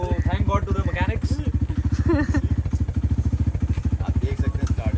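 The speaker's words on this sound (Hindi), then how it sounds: "मेरा मसला हमारी बाइक चल पड़ी है, ऑन हो चुकी है।" A motorcycle just started after mechanics' repair near Haleji Lake in Thatta, Sindh, runs loudly up close with a fast, steady engine throb, while people talk over it.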